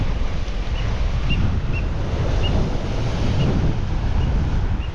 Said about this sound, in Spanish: Cómo se picó el mar, ¿eh?